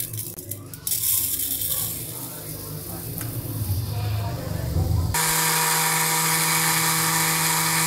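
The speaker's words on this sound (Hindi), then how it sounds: "मिसाले ग्राइंड करने वाली डब्बी थी, तो इसमें डाल के तो मैं इसको ग्राइंड कर लूँगी।" Electric spice grinder whirring steadily as it grinds cleaned wheat seeds in a small jar, a loud continuous buzzing drone that starts abruptly partway through after quieter kitchen handling sounds.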